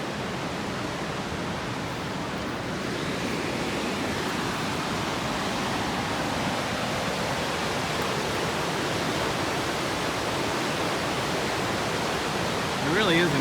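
A strong river surges through a canyon near Mt Robson, a constant, loud broadband rush of fast-moving water, close and unbroken, with a faint voice briefly near the end.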